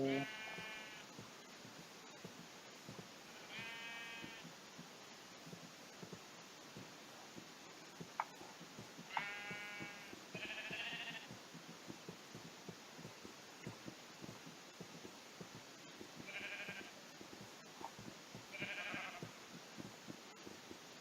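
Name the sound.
sheep bleating in a video game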